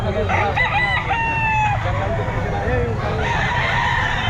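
A Sweater gamefowl rooster, an eight-month-old early bird, crows loudly at the Grotto pet market. Other fowl cluck nearby and people talk in the background.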